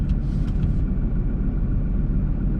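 A Nissan GT-R Nismo drives with a deep, steady engine rumble and road noise heard from close by, loud and continuous, with a brief higher whoosh at the start.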